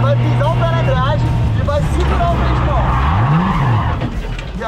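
A car drifting with a handbrake launch, its engine revving and tires squealing in rising and falling sweeps over a steady low drone while people talk over it throughout.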